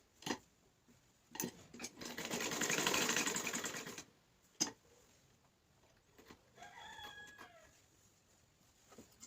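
A sewing machine stitching a coat collar runs in one steady burst of a few seconds, with brief clicks and handling sounds before and after, fairly quiet and with no talk.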